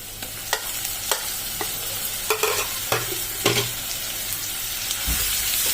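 Onion paste frying in a pan with oil for a Bengali jackfruit and prawn curry, a steady close sizzle broken by sharp spatula scrapes and stirring knocks against the pan at irregular intervals.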